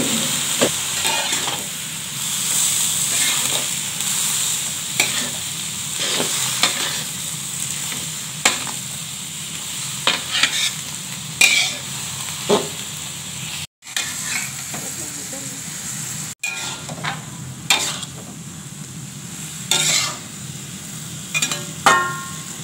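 Water spinach (genjer) stir-fried with tempe and spices in a pan, a steady close sizzle broken by repeated spatula scrapes and stirs, with brief gaps in the middle.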